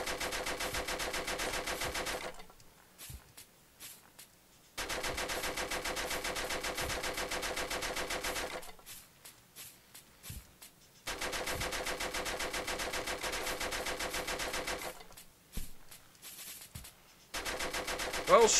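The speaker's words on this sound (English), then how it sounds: "he's shooting that dude over there" Bursts of rapid automatic gunfire in the video game Happy Wheels, loud and sustained for a few seconds at a time, separated by short quieter gaps.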